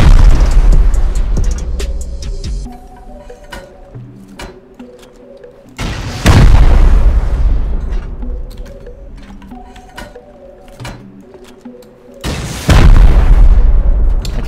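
Rockets blow open a garage in a survival video game: three heavy, booming blasts spaced about six seconds apart, each with a long rumbling tail and clattering debris in between.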